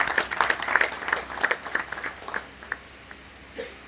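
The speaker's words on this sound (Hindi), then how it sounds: "उनके लिए जोरदार तालियां होनी चाहिए।" Audience applause at a community event breaks out loudly, a dense burst of claps that thins into scattered individual claps and fades to a few isolated hand strikes by the end.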